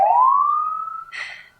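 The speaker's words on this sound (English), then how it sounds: "Siren's playing. Okay, yeah, the siren's part of this." A siren sweeps upward in a single loud rising wail that levels off, then a brief burst of harsher noise as it cuts out.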